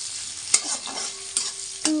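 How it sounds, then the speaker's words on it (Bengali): Onions being stirred as they fry in a pan of hot oil for chicken curry: a constant sizzle broken by three sharp scraping strokes of the spatula against the pan. "পেঁয়াজটাকে নিয়ে একটু নাড়াচাড়া করে নিই"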